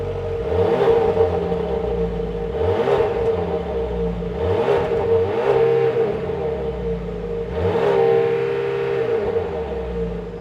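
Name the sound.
Volvo XC60 T8 2-liter turbocharged four-cylinder engine revving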